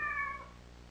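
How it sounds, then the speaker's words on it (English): A cat meows once in the video game Kentucky Route Zero, a short, clear, tonal cry that fades within half a second over a quiet, steady ambient background. "It's a cat."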